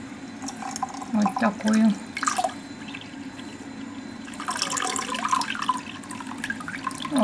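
A thin stream of water runs from a bathroom sink tap to bathe a pet snail, a soft, steady trickle close by while someone talks over it.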